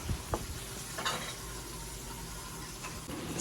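Steady frying sizzle from a pan of sardines and eggplant as the sauce comes to a boil, with a few faint clinks and stirring sounds near the start.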